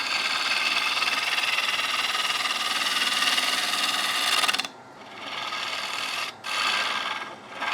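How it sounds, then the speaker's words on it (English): A gouge drags across the face of a spinning wooden kids' plate on a lathe at about 1300 RPM, giving a loud continuous rasping hiss that breaks off abruptly and then resumes in shorter cuts. "Going to drag the gouge across the face there."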